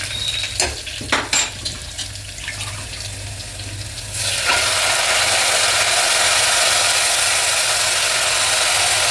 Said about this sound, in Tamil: இப்போ வந்துட்டு வெங்காயம் பாருங்கள் நல்லா வதங்கி வச்சு இப்போ இந்த மட்டன் சாப்ஸை போட்டுக்கலாம்